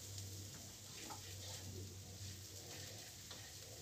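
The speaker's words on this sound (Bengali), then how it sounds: "আর কম তেলেই আমি ভাজতে বেশি প্রেফার করি, তাই আমি কিছুক্ষণ পরপর নেড়ে দিচ্ছি" Meat fries in a little oil and is stirred now and then, giving a dense, steady close sizzle with faint intermittent scraping and no talking.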